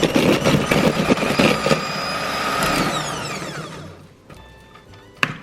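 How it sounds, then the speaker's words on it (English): Butter and sugar being whisked for Indian nan khatai dough, a steady electric whirring drone that runs continuously, then slows and winds down near the end with a final clunk. "So we're just going to whisk this until it's light and creamy."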